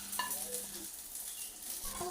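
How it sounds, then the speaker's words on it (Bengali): Hilsa paturi wrapped in taro leaves sizzles softly in a frying pan, with faint stirring and scraping noises over a quiet, continuous fry and no talking. "দেখুন এইরকম লাল করেই ভেজে নিতে হবে সমস্ত পাতুরিগুলো।"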